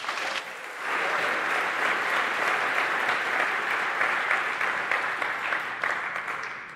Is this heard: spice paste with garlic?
no